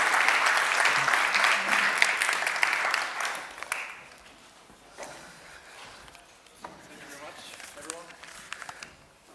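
A crowd claps loudly for several seconds, then the applause fades out and a voice begins speaking.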